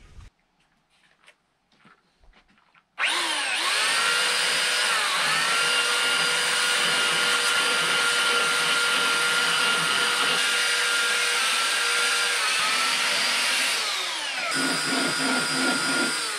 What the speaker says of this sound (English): Next, I'll hit the radius cut with a belt sander to clean up the corbels a little bit.